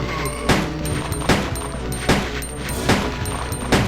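Shotgun blasts in the video game Resident Evil 2, six or seven loud booming shots fired at an even, steady pace, each followed by a brief mechanical clack, with no talk.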